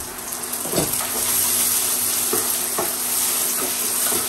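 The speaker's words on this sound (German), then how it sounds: "Nur ganz kurz anschmelzen, dass die Butter eben nicht verbrennt" Butter melts and browns in a pan for ribbon noodles with gorgonzola cream, giving a steady close frying sizzle with a few soft stirring scrapes and no talking.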